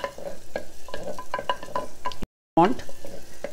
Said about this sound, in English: Then I'll be adding the onions, the half onions which I had kept. Allow it to nicely brown a little.